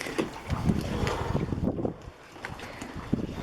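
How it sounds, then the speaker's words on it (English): Wind gusts over a marina with irregular knocks and clanks of boats bumping a dock, fairly close, with a brief lull near the middle. "you're hearing the boats clanking against the dock"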